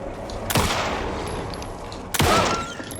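Two loud, close gunshots in the video game Alan Wake 2, one just after half a second and another about 2.2 seconds in, each followed by a booming echo over a low ambient rumble.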